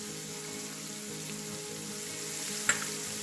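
Chili, coriander and turmeric powders fry in a hot pan for prawn and drumstick theeyal, a steady close sizzle with one sharp clink near the end.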